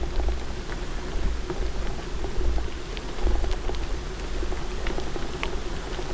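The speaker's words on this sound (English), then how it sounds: "You can hear it. A little creek off to my left here." A steady broadband wash of flowing water, like a small creek running nearby, with faint scattered drips and splashes throughout.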